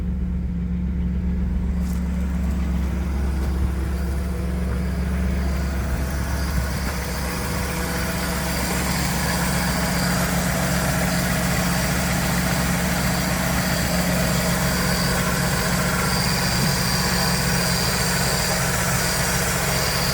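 A Holden Commodore engine, started after years unused, idles steadily with a constant low rumble and hum while warming up, unchanging throughout, with no voices.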